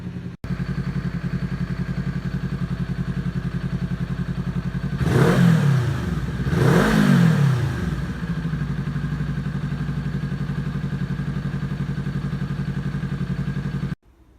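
A Kawasaki Ninja 400 motorcycle engine idles steadily while warming up, a close, even hum with two brief swelling whooshes partway through before it cuts off near the end.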